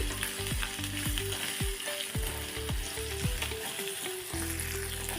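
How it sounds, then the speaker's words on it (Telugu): Dried red chillies fry in oil for a tempering, giving a steady close sizzle with repeated stirring scrapes and clatters through the clip and no talk. "మిరపకాయలు ఇవన్నీ వేగిపోయాయి"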